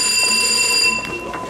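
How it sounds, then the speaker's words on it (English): A building fire alarm sounds continuously with steady high-pitched electronic tones, loud and close, with faint background movement and a few brief noises near the end. "It's fascinating that the fire alarm starts like 5 minutes after on this floor than where it actually happened"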